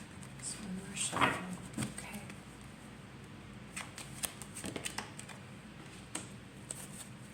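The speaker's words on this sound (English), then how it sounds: "So one more shuffle." A deck of tarot cards being shuffled during a reading, with a loud riffle near the start followed by scattered soft card slaps and shuffles; a voice speaks quietly at times.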